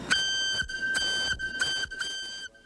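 An old steam whistle blows in a series of short, loud, shrill blasts, clear and close, each one stopping sharply before the next, with no talking.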